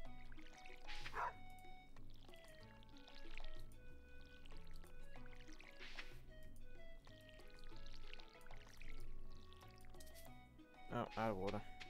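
Watering crops with a watering can in Stardew Valley: soft game splash and pour effects recur several times over background music, with a louder sparkly splash near the end.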